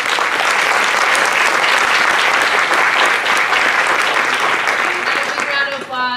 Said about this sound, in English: Please welcome Joel and Mike to the stage